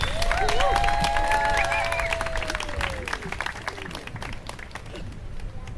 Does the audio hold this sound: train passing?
no